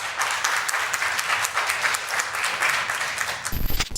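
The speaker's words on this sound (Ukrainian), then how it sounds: "публіка йому аплодувала" A studio audience at a television broadcast applauds, with a dense, steady wash of clapping throughout, loud and close, with no voices over it.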